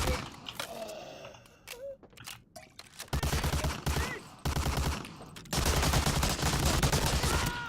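Gunfire traded between soldiers in the WWII shooter Medal of Honor: Allied Assault, with sharp bursts and fusillades starting loud and close after a quieter opening of scattered shots and groans, continuing steadily to the end.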